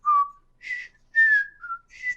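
A person whistles a tune, a few clear, loud melodic phrases with short pauses between them, heard alone with no talking.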